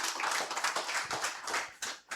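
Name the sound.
audience applause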